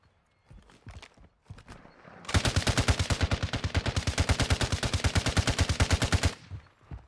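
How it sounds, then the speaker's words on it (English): Sustained automatic gunfire in the video game Modern Warfare 2, a long rapid burst of evenly spaced loud shots lasting about four seconds, preceded by a few scattered shots and a voice talking. "Fire your gun."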